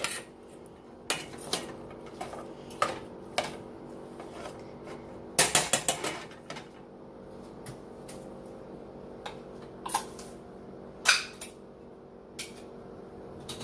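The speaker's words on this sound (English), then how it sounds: "So stir all of that up." Tuna casserole ingredients get stirred in a bowl, a spoon clinking and scraping against the sides in scattered taps, with one brief flurry of rapid knocks midway, fairly quiet and unaccompanied.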